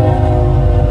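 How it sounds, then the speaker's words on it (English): A train runs along a nearby railroad track beside a truck stop, its steady loud rumble and wheel noise filling the whole second with a continuous low drone. "they got this train come out here freaking every 30 minutes"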